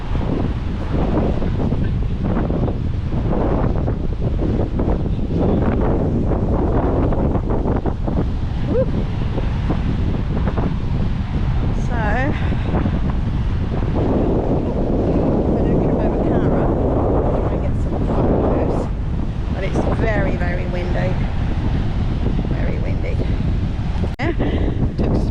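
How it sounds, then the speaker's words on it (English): Strong coastal wind at Fingal Head buffets the microphone in a loud, continuous roar, with surf and sea spray underneath and occasional voices speaking through the gusts. "Very windy."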